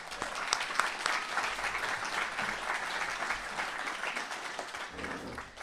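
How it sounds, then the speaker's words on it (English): Applause rises from the audience at a University of Iowa internal medicine residency graduation, honoring friends and family, moderately loud with distinct individual claps standing out through a sustained round. "Let's give our friends and family a big, heartfelt, and a very well-deserved round of applause again."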